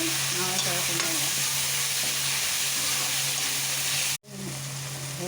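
Ginger, garlic, onion, coriander leaves, tomato and green chilli fry in a pan with a loud, steady sizzle, stirred throughout, the hiss cutting out abruptly near the end before resuming; no voices.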